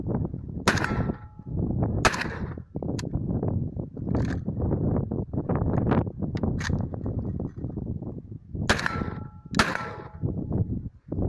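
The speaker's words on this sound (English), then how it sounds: "Just now you saw me shooting a smoothbore shotgun tuned assault rifle" Saiga-410 smoothbore shotgun-tuned assault rifle, adapted to run from 5.45 magazines with special short cartridges, fired outdoors at a dacha. Several sharp, loud shots ring out singly and in close pairs over steady background noise, with no talk.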